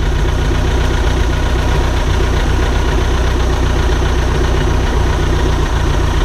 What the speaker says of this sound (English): put it back in, get it back up in running order.